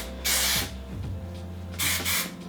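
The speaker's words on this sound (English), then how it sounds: "I'll just spray a little bit just to kind of lay my bangs down." Hairspray hisses from an aerosol can onto hair in two short bursts, each lasting about a second, close and fairly loud with quiet pauses between.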